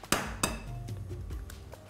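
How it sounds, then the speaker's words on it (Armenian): An egg is cracked against a hard bowl edge, two sharp knocks close together followed by a brief light clatter, while herbs, grated cheese and lavash wait for mixing nearby. "վրան ձու ենք ջարդում"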